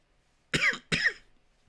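Two sharp coughs in quick succession from one person, close and fairly loud, then quiet.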